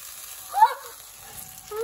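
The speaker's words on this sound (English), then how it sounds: "that sizzling noise" A brief sizzle of onion hitting hot oil in a pan, soft and close, fading into quiet hiss.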